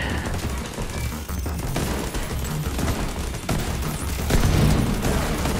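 Turret and weapons fire at enemies in The Division 2, dense overlapping automatic gunfire and heavy bursts, loud and continuous with occasional booming impacts.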